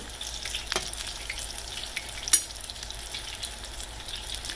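Apple fritters fry in oil with a quiet, continuous sizzle and faint crackles, broken by one brief sharp tick, with no voices.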